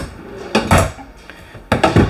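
Two non-soft-closing drawers in a Grand Design Influence 3503GK fifth wheel RV slide and bump shut in quick succession, each a wooden rumble ending in a knock, close by and fairly loud.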